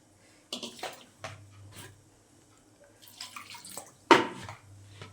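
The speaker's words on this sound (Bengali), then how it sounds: "এবার একটু জল দেব।" Water is poured into a bowl of kamla orange peels in a home kitchen, making a few short splashing pours and one sharper splash near the end, with quiet gaps between them.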